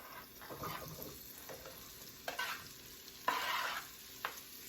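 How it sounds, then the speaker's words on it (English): Quiet sizzling of vegetables in a frying pan for an omelet, broken by a few louder bursts of stirring or scraping, heard close with no speech. "It's starting to sizzle, so I'm going to go ahead and add everything."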